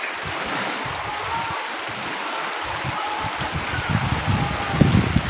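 Steady rain falls with wind over an open dirt courtyard, a dense continuous patter of drops that swells slightly toward the end, with no talking.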